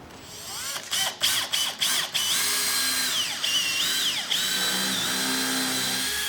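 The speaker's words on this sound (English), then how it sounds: "I like you using the drill to drive the screws in." A power drill drives screws into a wooden boat's skylight frame, first in several short bursts, then in a long whirring run whose pitch rises and dips as the speed changes, close and clear with no talk.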